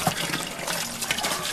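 Water sloshes and gushes steadily as it is mixed with ground-up paper from recycled school exercise books and ground leaves, a dense continuous wet churning up close.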